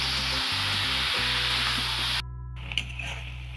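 Chopped apple and sugar sizzling in melted ghee in a pan for apple pie filling, a dense steady frying hiss close up with a short break and stirring at the end, no talk.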